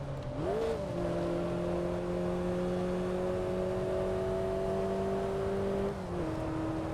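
Car engine humming steadily under acceleration in Assetto Corsa on the Pacific Coast Highway, a sustained tonal drone with a brief pitch sweep early on and a shift near the end as oncoming cars pass.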